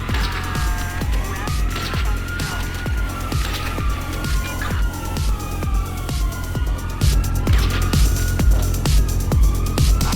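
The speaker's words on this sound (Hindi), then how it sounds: "पुलिस की सायरन सुनाई देने लगी, यानी पुलिस करीब आ चुकी है।" Police sirens in GTA 5 wail and approach through city traffic, their rising and falling tones sweeping over car and engine noise with regular low thumps, growing louder toward the end.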